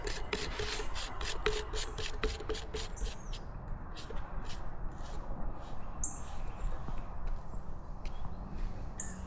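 Threads of a part being screwed onto an Intimidator Alias paintball marker during servicing, the top O-ring greased for a seal; close, steady rasping and rubbing scrapes with a few sharper clicks, no talk.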